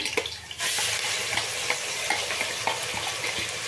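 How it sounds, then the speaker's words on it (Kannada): Ground masala paste hits hot oil for a soya mint pulao. A sharp, dense sizzle bursts in after a brief quieter stir, then crackles steadily and close up, with no voices. "ನಾನೀಗ ಇದಕ್ಕೆ ರುಬ್ಬಿರೋ ಮಸಾಲೆ ಹಾಕ್ತಾಯಿದ್ದೀನಿ"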